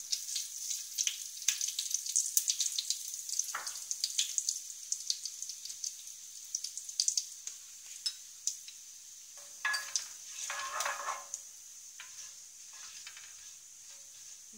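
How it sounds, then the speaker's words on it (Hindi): Whole cumin seeds sizzling in hot desi ghee, a light crackling hiss of fine rapid pops, busier at first and thinning out, close and fairly quiet, no talk. "घी जो है वो गर्म हो गया, हम इसमें जीरा डाल देते हैं"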